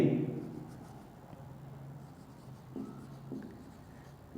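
Pen or chalk writing out a math formula for the total surface area of a cuboid, faint scratchy strokes in short bursts, quiet and close with a brief voice at the start.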